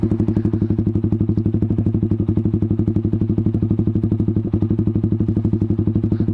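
A Kawasaki Z200S motorcycle fitted with an SC Project exhaust idles steadily close by, a fast, even, unbroken low thumping pulse with a faint clattery edge, loud and alone for the whole stretch.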